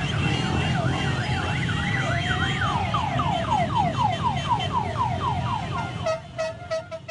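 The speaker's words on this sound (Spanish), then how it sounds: "Las bocinas no dejaban de tocar" Car horns, including warbling siren-style horns, blare continuously from a motorized caravan of Peruvian football fans celebrating a Peru vs. Argentina draw, loud and overlapping, with steady horn blasts near the end.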